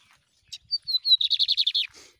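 A lined seedeater (bigodinho) sings in an open field: a short, clear song of rising whistled notes running into a fast, evenly spaced trill of about eight bright pulses. It is close and loud against a quiet background, with no talking.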